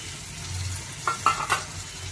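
Tomato pieces dropped into a hot pan for a Telugu tomato and broad bean curry, a few quick bursts of sizzling and stirring close by, with no talking.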